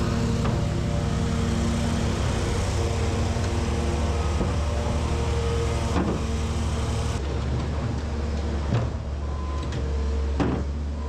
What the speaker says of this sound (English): My dad's just mowing this yard right here because they're gonna be working back here.